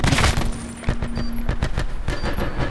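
Rapid bursts of video game gunfire crack out in a volley, sharp repeated shots with loud transients over a busy background of game sounds, with no talking.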